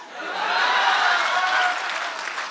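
A short, warm burst of audience clapping at a Hindi poetry event swells and then tapers over a couple of seconds, heard alone without speech.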